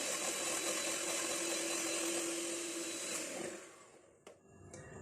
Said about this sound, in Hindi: दही के साथ इसको मजीद बीट कर लेते हैं।